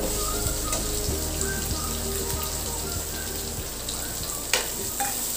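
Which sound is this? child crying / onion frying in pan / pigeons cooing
onion frying in pan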